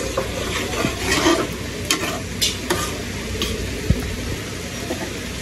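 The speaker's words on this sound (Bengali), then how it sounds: "এই যে দেখেন তরকারিটা বলক আসছে" A pot of Rohu fish curry with eggplant and potato comes to a boil, producing a dense, close bubbling hiss with a few soft splutters and one brief knock.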